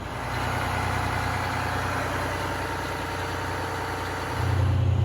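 A motor yacht engine runs steadily underway in the Florida Keys with a low, droning hum, growing louder and deeper near the end.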